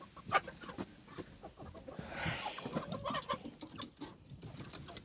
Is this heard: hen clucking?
yes